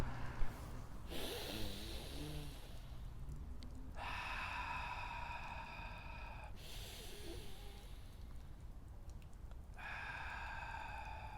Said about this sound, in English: let's take a couple breaths